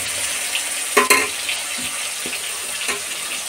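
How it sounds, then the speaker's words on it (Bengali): Fish sizzle in hot oil in a home kitchen pan, a steady bright hiss with a few sharper crackles and splutters, fairly close and with no voices. "তো দিয়ে দিয়েছি তেলের মধ্যে মাছগুলো,"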